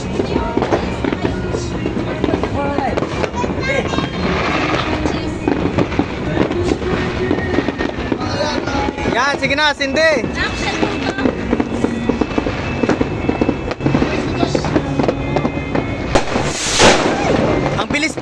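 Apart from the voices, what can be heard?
fireworks exploding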